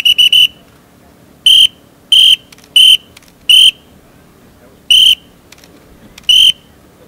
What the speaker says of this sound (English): We move forward, you'll hear three short blasts, and then we move forward on the fourth blast.